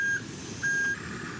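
A tiny remote-controlled mini excavator, working in sand, gives two high electronic reversing beeps over a low motor rumble.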